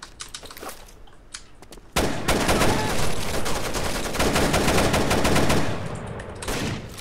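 Sustained machine gun fire in Rainbow Six Vegas 2 rattles in dense, rapid bursts, loud and close, with scattered gunshots before the main barrage and a brief easing near the end.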